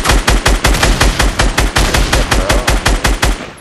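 Video game gunfire, a loud close automatic burst of rapid, evenly spaced shots hammering steadily for several seconds.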